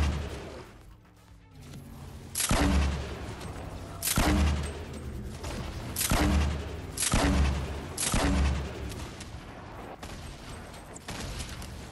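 Fortnite Battle Royale gunfire rings out in five heavy, booming bursts about two seconds apart, loud and close over a steady game background with no talk.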